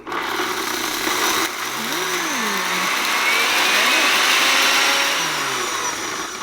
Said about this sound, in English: I'm going to take it over here to the blender and hope this works.